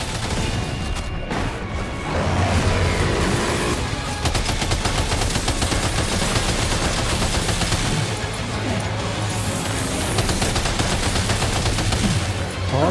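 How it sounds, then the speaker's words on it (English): Heavy, sustained gunfire in the video game Death Stranding 2, dense overlapping rapid shots and crashes that continue without pause, loud and close throughout, with little or no talking. "Opening fire now."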